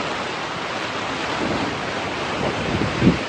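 Wind gusting against a tarpaulin tent, a steady broadband rush with a brief thump near the end, continuous and fairly loud with no voices.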